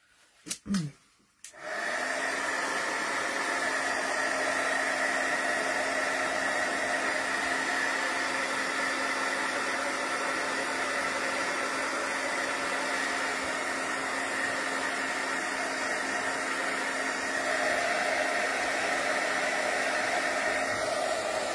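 A hair dryer runs steadily on a wet vintage journal page, switching on after a brief clatter and then blowing with a loud, continuous hum and rushing air noise, close up and with no talking.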